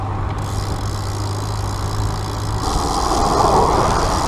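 A truck passes on the road, a steady heavy engine rumble and road noise swelling louder near the end as it draws alongside, with no talking.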